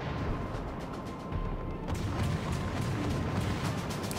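Main guns of the battleship South Carolina firing in World of Warships on a polar map, a heavy booming blast followed by a long, loud, rolling rumble that fills the whole stretch.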